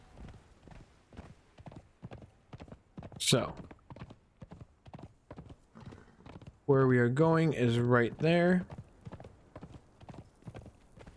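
Horse hooves clip-clopping in Conan Exiles, a brisk regular train of sharp hoof strikes running through the whole stretch, with a brief whinny-like cry partway and someone talking over part of it.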